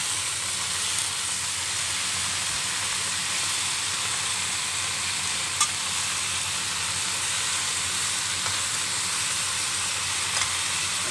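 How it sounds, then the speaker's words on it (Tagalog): Vegetables for pinakbet sauté in a pan with a loud, continuous, even sizzle and hiss and only a faint tick or two above it, with no one talking. "Lagay na po natin yung ating gulay"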